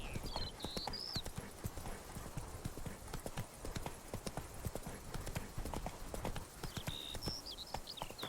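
Roach the horse trots along in The Witcher 3: Blood and Wine, its hooves clip-clopping in a quick, even rhythm, faint and soft, with a few tonal game chimes around the beginning and end.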